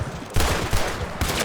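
Gunfire in Red Dead Redemption 2, heard as a few loud, close shots in quick succession over a sustained noisy background.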